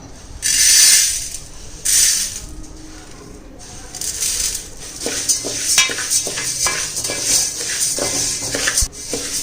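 Dry jowar (sorghum) grains roasting in a pan for a homemade health mix, with grains scraped and stirred against the metal in a busy run of clinks and rattles, loud bursts early, then steady clicking near at hand.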